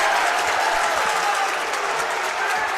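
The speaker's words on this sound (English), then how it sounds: "The crowd's fired up." A high school basketball crowd at St. Patrick vs. Carmel Catholic applauds and cheers in a steady, dense wash of clapping and shouting that holds loud throughout.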